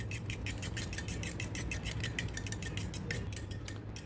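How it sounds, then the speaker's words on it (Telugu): A spoon beats yogurt in a bowl for a chilli paneer marinade, giving quick, steady clinks and scrapes in an even rhythm, close and moderately quiet. "పెరుగుని బాగా మిక్స్ చేసుకోవాలి."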